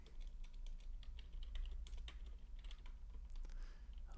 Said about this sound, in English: I'm going to type, this is an example project.